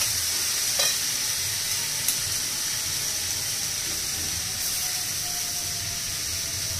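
Potatoes frying with a poppy seed and peanut paste in a pan, giving a steady soft sizzle with faint stirring scrapes and a few small clicks throughout, close and even, with no talking.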